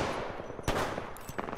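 Rapid gunfire from enemies shooting back during a shooter video game firefight, dense bursts of shots crackling throughout with a sharp louder volley partway in, no talk.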